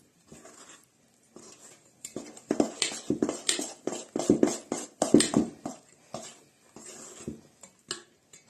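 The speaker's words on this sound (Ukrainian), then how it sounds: "Ось так ложкою ми замісили тісто" A spoon scrapes and clatters against a bowl in irregular bursts, kneading burger bun dough close by, stirring and knocking with short pauses between strokes.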